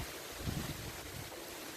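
Steady wind rushes and buffets the microphone outdoors in a Ukrainian village, a continuous broadband roar with low gusty rumbles and no voices.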